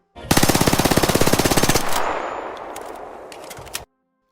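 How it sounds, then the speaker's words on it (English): Rapid automatic gunfire from a weapon in the video game Arc Raiders, recreated in Unreal Engine 5: a fast, evenly spaced burst of loud shots for about a second and a half, then a long decaying reverberant tail with no voices. "I went back to Arc Raiders to see how it handles automatic fire"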